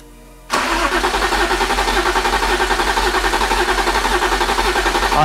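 BMW E36 M3 engine cranking on its starter with the fuel pump fuse pulled, so it never fires, giving a loud, steady, rhythmic whirring churn that starts abruptly and runs for about five seconds.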